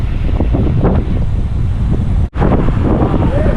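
Strong wind buffets loudly and continuously against the microphone during a ride past Al Safa Park, with gusty low rumbling and a brief dropout partway through.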